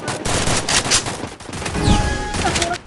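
Gunfire in the Free Fire video game crackles as dense, rapid automatic bursts, loud and continuous, with overlapping shots and game effects throughout.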